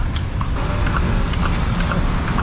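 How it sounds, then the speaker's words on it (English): Horse hooves clip-clop on concrete as a horse cart travels a busy Manila road, steady repeated strikes over a constant roar of nearby traffic. "You can hear the hooves running on the concrete."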